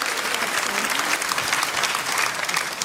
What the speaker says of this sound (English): Round of applause for the Homesteads